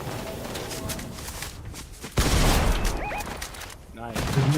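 Gunfire in a video game, with bursts of shots and a loud blast midway over continuous game ambience, plus chirpy effect sounds near the end.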